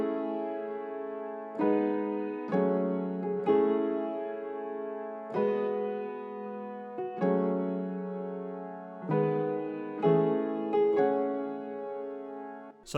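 Jazzy Keyscape electric piano chords, including major seventh and minor seventh voicings, for a vintage-style sample; each chord is struck and left to ring and decay before the next, an unaccompanied progression of about eight changes.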